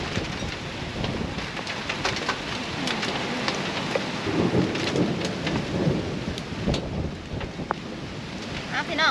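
Steady heavy rain hisses throughout, with low rumbling swells that could be distant thunder rolling under the downpour.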